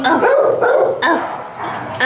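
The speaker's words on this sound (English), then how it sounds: "Puppies are so cute." Several puppies at an animal shelter bark in a quick series of sharp, close yips and barks, loud and repeated in short bursts with brief pauses between.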